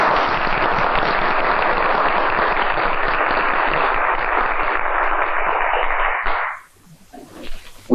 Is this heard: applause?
yes